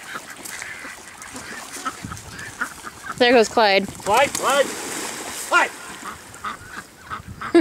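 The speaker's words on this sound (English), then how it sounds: "Those are some kind of ducks, aren't they?" Ducks calling in a burst of harmonic honks and quacks while being fed bread at lunchtime, fairly close, with a voice calling out a name over and between the calls.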